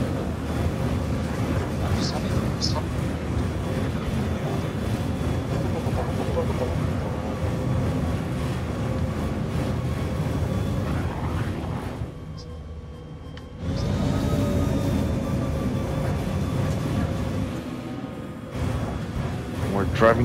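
Continuous low rumbling drive noise of an Ursa rover crossing a dust storm on Daymar in a space video game, steady and loud with a brief dip in the middle.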